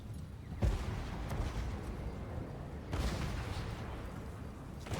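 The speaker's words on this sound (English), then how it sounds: "which is actually currently being fired upon by my allies' cannons here" Two deep cannon booms from Total War: Warhammer sound a couple of seconds apart amid a continuous rumbling din of distant battle.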